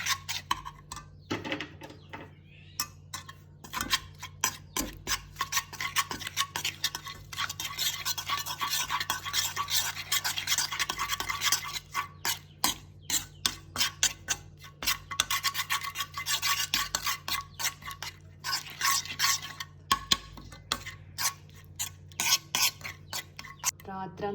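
A powder mixture is stirred in a pot on a stove, giving a steady run of scraping and rubbing strokes against the pot's sides with clinks of a utensil. It continues close and fairly loud for the whole stretch, with no talk.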